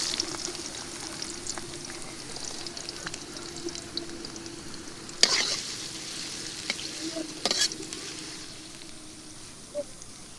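Onions dropped into hot oil on a newly built stove, a steady low crackling fry with two sharp scraping stirs and a few light pops, close by and without talk.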